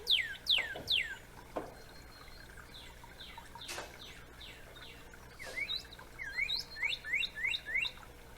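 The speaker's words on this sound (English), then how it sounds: "Cardinal." Bright, sharp descending chirps of a cardinal, a cluster of three early on and a rapid run of five or six toward the end, moderately close over quiet background.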